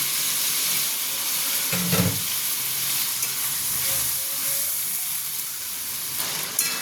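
Prawns fry with ginger and green chili paste in a pan, a steady dense sizzle running throughout with a brief louder burst of stirring near the start, close and fairly loud with no talk.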